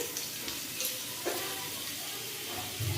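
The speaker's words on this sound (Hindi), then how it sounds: "तो बटर अभी गल रहे हैं" Butter melts and sizzles in a pan with a little oil while broccoli butter masala is being made, a soft, steady frying hiss close by with faint crackles and a brief stir near the end.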